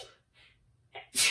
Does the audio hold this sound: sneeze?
yes